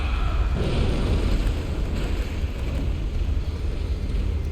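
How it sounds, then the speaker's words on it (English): Fiery explosions erupt after a boss attack in the video game Bloodborne, a dense rumbling roar that fills the whole span, loud and continuous. "Watch out for the explosions of fire that happen after the attack."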